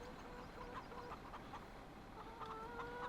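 Chickens in the video game Farming Simulator 17 cluck steadily in a farmyard, a dense overlapping chorus of short repeated calls with no talking.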